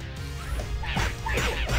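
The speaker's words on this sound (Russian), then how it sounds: "Собаки эти злобные тут." Angry dogs barking in the action platformer game Dan the Man, a run of sharp barks and yips over busy game sound effects and music, fairly loud and close.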